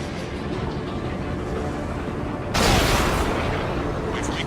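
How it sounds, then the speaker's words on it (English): An explosion bursts in the air-combat video game Ace Combat 7, a sudden loud broadband blast that cuts in over a steady engine drone and rumbles on afterward. "Did you see that explosion?"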